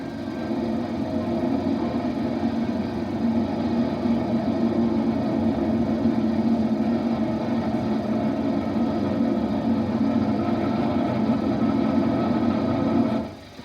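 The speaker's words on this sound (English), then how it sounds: "The edging machine finishes the job." A timber edging machine runs steadily in a 1950s New Zealand sawmill, giving a continuous droning hum with faint rattling vibration that holds at an even level for the whole stretch and cuts off abruptly at the end.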